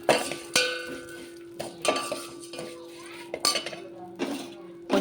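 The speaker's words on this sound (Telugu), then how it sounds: "సేమియా పోస్తున్నాను" Vermicelli (semiya) is fried and stirred in a pan, giving a run of sharp, irregular spoon-on-metal clinks and scrapes, close and fairly quiet, over a soft sizzle.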